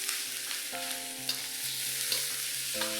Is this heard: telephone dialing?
no